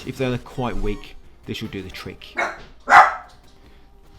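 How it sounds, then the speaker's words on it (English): A dog named Jack barks a few times in a home, loud bursts breaking through a man's nearby speech over game audio. "Sorry, that's the dog barking."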